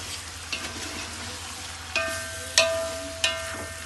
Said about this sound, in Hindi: इसे हम 3 से 4 मिनट इसमें फ्राई करेंगे।